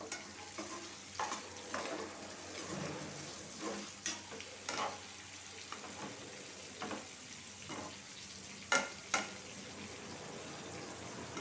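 Papaya curry frying in a pan, a soft steady sizzle with scattered spoon scrapes and clinks against the metal throughout, no voices.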